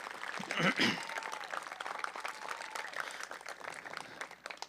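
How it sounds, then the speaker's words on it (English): Graduation ceremony audience applauding two student speakers, fairly quiet and distant clapping that swells briefly near the start and then continues softly, with a voice faintly under it. "Let's have another round of applause for both Maddie and Jasmine"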